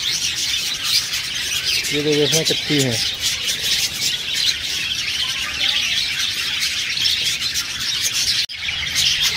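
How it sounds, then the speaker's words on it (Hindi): Birds chirp and tweet inside an enclosure at Gwalior zoo, a dense, continuous chorus with a few clearer calls standing out, while someone speaks briefly in Hindi over them. "इसके अंदर ये चिड़िया इसमें चीची चीची कर रही हैं"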